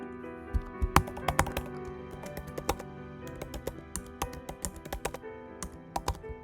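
Typing on a computer keyboard to enter an email address and request a login code, a steady run of close, crisp key clicks with uneven bursts and short pauses, no voices.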